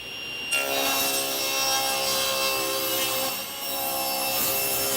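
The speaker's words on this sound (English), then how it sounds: "I can now trim the panel to its final width." A wooden panel is sawn down to its final width: a loud, steady, continuous rasping cut through the wood over a constant machine drone, briefly dipping near the end, with no talking.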